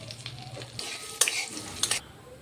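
Spice paste and two bay leaves are stirred and fried in a pan for sabu (sago) khichdi: a steady close sizzle with scraping stirs, and two louder hissing bursts partway through.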